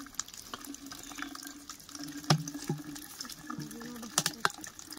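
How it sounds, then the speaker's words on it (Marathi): Water trickling from a small natural spring on a farm into bottles, a close splashing flow with shifting pitch as the bottles fill, a few sharper splashes and knocks, and faint voices in the background. "पाण्याचा छोटासा स्रोत आहे पण बाटल्या भरून जातील ना."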